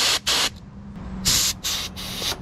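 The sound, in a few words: canned air spraying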